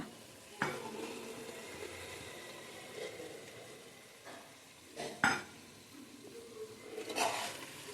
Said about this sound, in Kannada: ಈಗ ನಾನು ಅರ್ಧ ಕಪ್ಪಷ್ಟು ಮೊಸರನ್ನ ಹಾಕ್ತಾಯಿದ್ದೀನಿ.